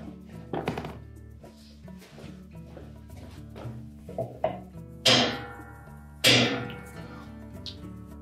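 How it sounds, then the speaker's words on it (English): A short-handled hammer strikes metal several times while tightening a Whirlpool washer's drive block, scattered light taps followed by two louder ringing blows near the end, close and otherwise quiet. "then we'll use the hammer to tighten it completely."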